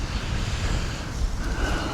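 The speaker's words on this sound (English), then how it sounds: "It's real windy tonight." Strong night wind gusts outdoors during a Maine deer hunt, a rough continuous rumble buffeting the microphone, with no talk.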